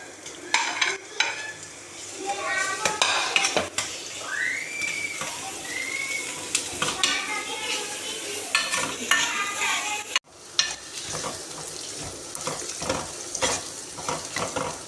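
Onions frying in a pot for arvi salan, with ginger garlic paste stirred in; a steady sizzle runs throughout with scraping stir strokes and clinks, close and moderately loud, no talking.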